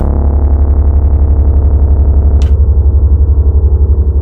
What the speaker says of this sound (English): This is like a chopper effect.